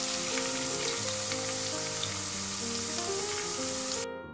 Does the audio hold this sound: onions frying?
yes